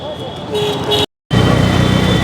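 An auto rickshaw rumbles through Jodhpur city traffic, engine droning loud and close with passing vehicles and a faint horn, cut by a sudden brief dropout before the noisy ride resumes.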